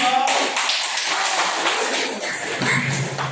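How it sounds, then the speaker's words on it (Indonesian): A classroom group applauds after a Quran recitation during a teacher-training performance session, with dense, busy clapping that fills the room and fades slightly near the end. "Tepuk tangan."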